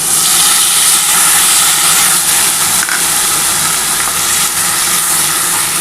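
Poppy seed paste ground with onion is added to hot oil in a pan for a wedding-style doi katla, giving a loud, continuous broadband sizzle that hisses steadily without a break.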